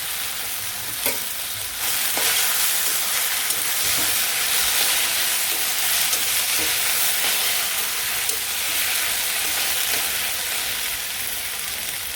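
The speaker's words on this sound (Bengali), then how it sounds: "তারপর আবার তেল দিয়ে দিছি এখন কুচুরলতি যে সিদ্ধ করে রাখছি সেগুলো দিয়ে দিই" Boiled taro stolons fry in hot oil in a Bangladeshi village kitchen, a loud, dense, continuous sizzle with a few spoon scrapes near the start.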